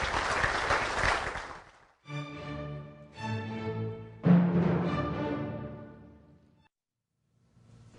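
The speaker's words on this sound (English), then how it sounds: "let's give Senator Kirk a round of applause for his service to us" A crowd at a candidate forum gives Senator Kirk a burst of applause, dense and close for about two seconds. A voice then speaks over the room, followed by a brief silence.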